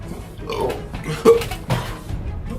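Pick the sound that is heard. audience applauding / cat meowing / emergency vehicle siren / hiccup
hiccup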